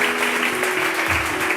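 A church congregation applauds in praise, a steady dense wash of clapping filling the room for a brief moment.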